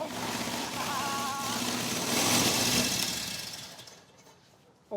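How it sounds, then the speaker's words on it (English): An old military motorbike engine, part of World War era equipment under restoration, runs steadily after starting, a loud continuous mechanical chug that fades toward the end, with a little talk faintly in the background. "Mission 1, start the bike, complete."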